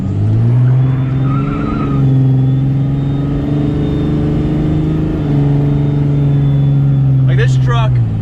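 A tuned 2005 Cummins diesel pickup with a Smarty tuner idles with a deep, steady rumble and a slight rise in revs, close and loud, with a faint metallic squeak near the end.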